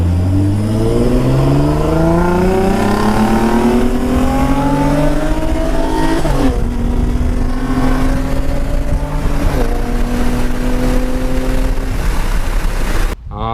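A Nissan 350Z with a CD009 transmission accelerates hard in second gear during a roll race. The loud, close engine note climbs steadily, a shift cuts in partway, and the revs keep rising until an abrupt stop.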